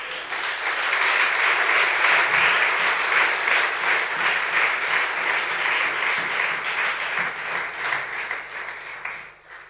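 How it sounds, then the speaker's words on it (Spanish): A congregation at a Spanish-language church service breaks into sustained applause, many hands clapping loudly and evenly for several seconds before tapering off near the end. "Aplaude, Señor, en esta mañana"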